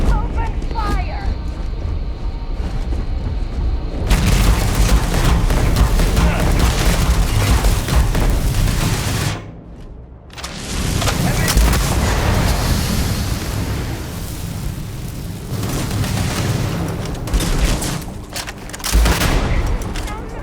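Sustained gunfire rattles through a Starfield firefight, dense volleys of shots and booms with a short pause around ten seconds before the shooting resumes, close and loud over game effects.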